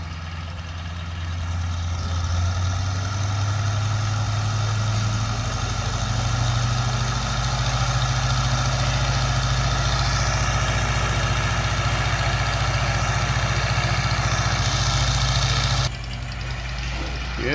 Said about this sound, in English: Doing the standard engine run up before the flight.